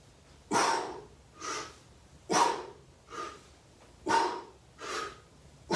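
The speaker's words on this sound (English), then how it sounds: "That's the breathing. You breathe out as you extend." Forceful, rhythmic breaths pushed out during kettlebell swings, about six bursts alternating with quieter inhales, close and steady with no talking.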